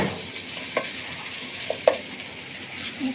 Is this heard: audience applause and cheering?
no